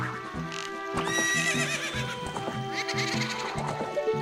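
Horse riding in Ocarina of Time: a loud neigh and whinny over brisk rhythmic hoofbeats, close and clear, with no voices over it.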